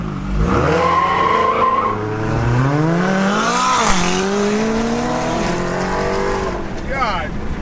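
A widebody Dodge Charger Hellcat on 26-inch wheels races a McLaren 570S. The engine roars loud and close, its pitch sweeping up and down through repeated surges, with a brief squeal near the end and voices underneath.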